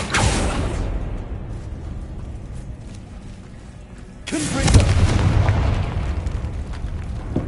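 Bombardo blasting spell exploding in Hogwarts Legacy, a sharp close blast that fades into rumbling, then a second heavy boom with a sustained roar and crackle.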